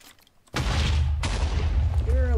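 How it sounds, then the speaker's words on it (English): Loud, sustained rumbling explosions and gunfire in the Sky Wars video game, beginning abruptly after a quiet moment and rolling on continuously with a sharp blast partway through and tonal game sounds near the end. "There are a lot of explosions going on out there, and I'm scared."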